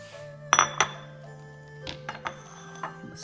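Chopped onion scraped into a small glass bowl: a couple of sharp glassy clinks up close, then softer scraping taps against the rim.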